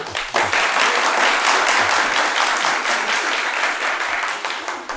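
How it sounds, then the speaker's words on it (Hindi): Sustained audience applause at a public talk or debate, a dense crowd of hands clapping loudly and evenly for the full stretch without a break. "ये तालियां ना बजती"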